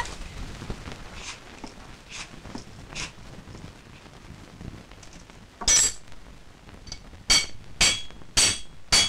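A hammer strikes metal in a Turkish film scene, a few faint taps early on, then a cluster of sharp, bright clinking blows near the end, irregularly spaced.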